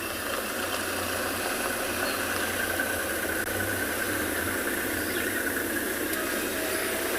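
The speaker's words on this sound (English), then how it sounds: "There's one or two cars, because we're on the main road." A car engine idles on a main road during an afternoon safari drive in South Africa, a steady low rumble with broadband hiss running continuously and fairly loud throughout.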